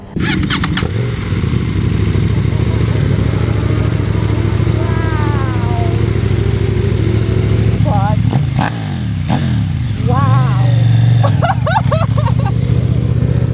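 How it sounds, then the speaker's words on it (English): A KTM 890 motorcycle with a large Akrapovic exhaust idles with a loud, steady, deep burble close by, with brief throttle blips and revs breaking in near the end and a voice talking over it. "Just thought I'm gonna record this amazing 890 because it sounded really good on the track."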